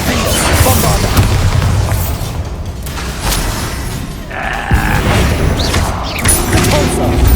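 Bombarda spell explosion in Hogwarts Legacy, a loud booming blast amid dense, continuous combat noise with rumbling low thuds and scattered crashes throughout.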